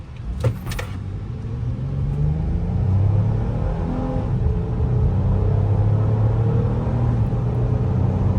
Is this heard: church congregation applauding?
no